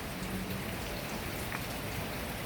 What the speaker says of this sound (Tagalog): ganito na yung ulan, oh.